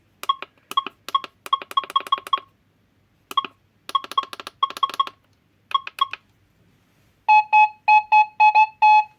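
Bursts of rapid electronic beeping from an SDR metal detector's multi-tone audio response in uneven clusters, ending with a series of louder, evenly spaced tonal beeps; clear, close and without speech.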